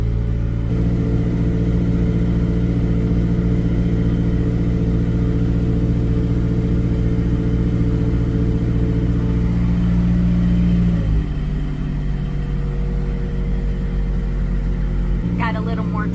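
Le Boat canal cruiser's motor runs with a steady, loud low drone that drops in pitch and settles after a shift midway, on a Dutch canal route from Gouda to Uithoorn, with a brief chirpy noise near the end.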